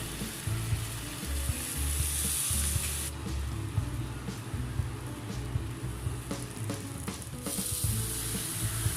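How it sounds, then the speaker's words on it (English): Loud, close sizzling and crackling of a red velvet brownie with ice cream and chocolate sauce searing on a hot metal plate, with bursts of spitting and hissing that rise and settle. "And the sizzling sound, so much satisfaction,"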